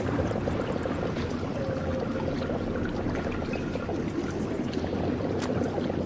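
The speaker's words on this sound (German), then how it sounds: "So, es wird das Wasser hier abgelassen." Continuous pouring and rushing of water draining away in the Blood Omen 2 video game, a dense, even torrent that holds at a steady level throughout with no voices.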